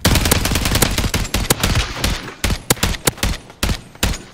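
MP7 submachine gun fire in Call of Duty Modern Warfare 3 Cyber Attack mode: sustained rapid automatic bursts at first, then separated short volleys and single shots, loud and close, with no talking.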